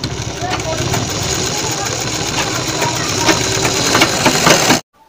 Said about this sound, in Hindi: रखने के बाद में यहाँ से लगा देंगे सिलाई